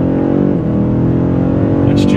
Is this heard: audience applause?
no